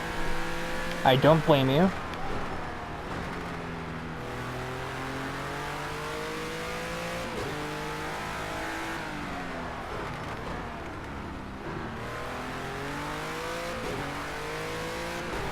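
A race car in a video game race, its engine revving and shifting through rising and falling gear tones throughout, with a brief squeal near the start and a voice talking over it.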